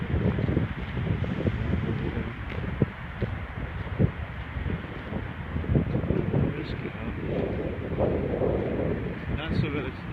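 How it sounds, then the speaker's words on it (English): Light breeze buffeting a microphone outdoors at Athens ruins, a continuous low rumbling roar with uneven gusty swells, steady and close throughout. "there's a little breeze, kind of like a wind chill going on"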